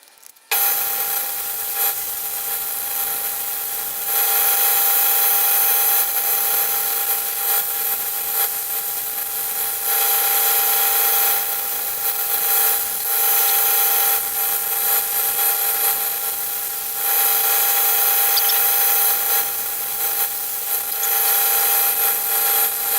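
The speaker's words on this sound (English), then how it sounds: "Anyway, I'm going to keep sanding." Wooden platter sanded on a woodturning lathe: a steady, loud hissing rasp with a constant motor hum, swelling and easing slightly as pressure changes, running continuously without speech.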